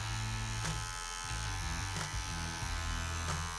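Electric hair clippers buzz steadily and close up while cutting a flat top haircut, with the motor's pitch dipping slightly as the blades move through the hair.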